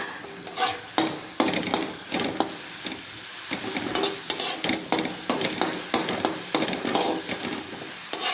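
Curry leaves, green chillies and spices frying in a pan for a homestyle fish curry with tamarind, a constant close sizzle broken by repeated scraping stirs of a spoon against the pan.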